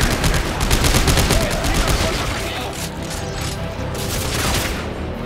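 Weapon fire in Dead Space 3 on Xbox 360, a loud burst of rapid shots up front that thins out into quieter fire and gameplay noise.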